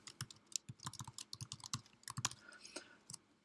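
Typing on a computer keyboard while entering input into MATLAB: a steady run of crisp, close key clicks at an irregular pace, fairly quiet, with no voices over it.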